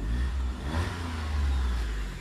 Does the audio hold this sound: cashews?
no